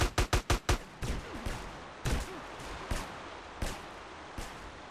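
Video game gunfire: a rapid burst of five sharp shots opens, then single and paired shots follow at irregular intervals, close and punchy over a low game background.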